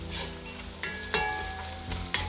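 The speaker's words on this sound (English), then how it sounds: "Don't forget to keep mixing in it so it doesn't burn." Cabbage sour soup with caramelized vegetables cooking over medium heat sizzles steadily in the pot, broken by a few sharp scraping knocks as a utensil stirs it, close up and with no talk.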